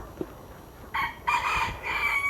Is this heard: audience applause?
no